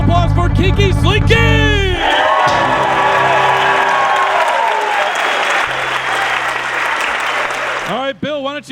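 Audience applause and cheering for a band at a Dark Winter Nights show, a dense sustained roar of clapping with whoops, opening over a host's amplified voice and ending as he resumes talking.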